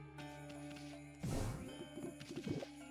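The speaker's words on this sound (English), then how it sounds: "I like hearing the gong." A gong is struck in the Okami video game, giving a bright metallic crash that rings out over a steady musical background, followed by smaller clanging hits.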